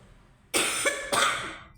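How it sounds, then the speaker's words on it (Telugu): Two harsh coughs from a person, close and fairly loud, the second following about half a second after the first, with quiet before them. "దగ్గు బాగా వస్తుందండి."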